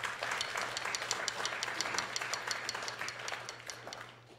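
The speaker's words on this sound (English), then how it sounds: "Let's give them a round of applause." Applause from a modest concert audience for the sponsors of a jazz quintet show, a soft, steady patter of many hands clapping at a distance over a low hum, thinning out toward the end.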